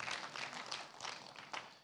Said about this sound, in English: One claps, everybody claps.